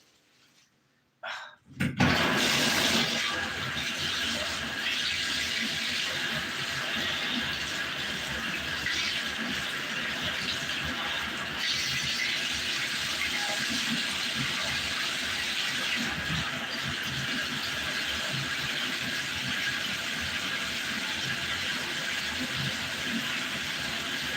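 Tap water runs steadily for over twenty seconds while hair is rinsed during a home hair-dyeing session, a continuous close gush starting abruptly after a brief quiet moment.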